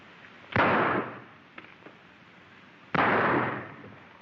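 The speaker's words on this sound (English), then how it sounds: "Make it fast, Slippery. This is your last draw." Two gunshots in a gunfight draw in a 1933 western film, each a sharp crack with a short decaying tail, about two seconds apart, with a faint click between.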